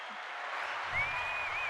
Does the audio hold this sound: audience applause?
yes